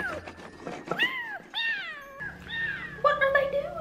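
Several drawn-out meows from a cat in the animated Barbie film The Princess and the Pauper, coming in quick succession with bits of voices and film sound around them.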